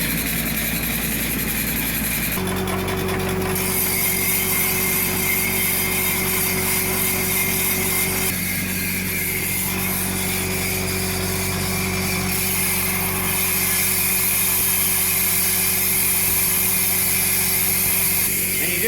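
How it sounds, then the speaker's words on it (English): Slot machine reels spin backwards during backlapping, with lapping compound brushed onto them, producing a loud, steady mechanical whir and motor hum that runs continuously throughout. "That will allow those reels to spin backwards."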